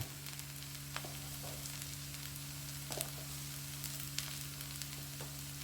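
Pepper chicken with home-ground pepper sautés steadily in a pan, a quiet, continuous sizzle with soft scattered clicks of stirring, no voices over it.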